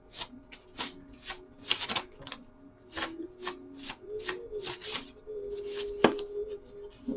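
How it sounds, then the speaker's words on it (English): Paper affirmation cards are shuffled by hand at close range, giving a series of quick, crisp riffling and slapping bursts in an uneven rhythm, loud and with no talk over them. "those ones are a little harder to shuffle because they're paper."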